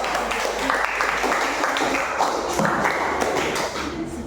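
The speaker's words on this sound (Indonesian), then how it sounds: "tepuk tangan buat kelompok." Students in a classroom clap for a group after its presentation on mangrove forests, a dense, lively burst of applause from many hands that tapers off near the end, with some voices mixed in.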